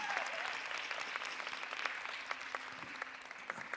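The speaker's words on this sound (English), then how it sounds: "everyone's going to applaud you as you make your way backstage" An audience claps steadily at a Miss World 2026 pageant challenge, a moderately loud, sustained patter of many hands, with a brief voice at the start.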